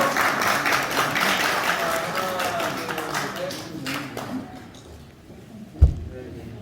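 Applause at an appointment ceremony in a hotel hall starts moderately and fades out over several seconds, with voices talking underneath and a single sharp knock near the end.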